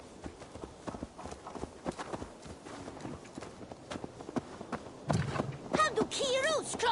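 Horse hooves clip-clop in Assassin's Creed Valhalla, a steady run of soft, evenly spaced steps. Speech comes in near the end.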